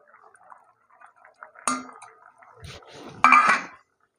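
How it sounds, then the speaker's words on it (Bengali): Drumstick stalks tipped into a pot of simmering dal with potatoes, giving a few close clattering knocks against the metal pot amid soft bubbling, with two louder clanks and otherwise quiet surroundings. "এখন আমি এই ডাঁটাগুলো দিয়ে দেবো।"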